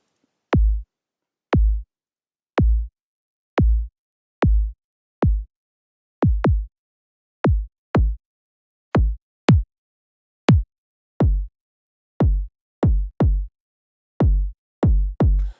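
A modeled bass drum preset on a BLUE-3 drum synthesizer fires as isolated, deep, punchy kicks with quick pitch drops, struck about once a second with occasional doubled hits, clean against silence.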